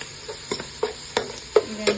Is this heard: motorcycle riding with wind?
no